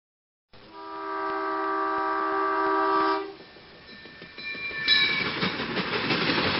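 A train horn sounds a long, sustained multi-tone blast, then cuts off as wheels clatter over rail joints in a rolling rhythm while a fainter horn calls again; no one speaks.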